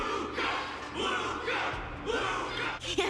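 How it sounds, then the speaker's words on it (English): A loud crowd cheers and shouts for a fighter, a dense roar of voices swelling in waves with whoops and yells, close and continuous throughout. "Everyone's cheering for you"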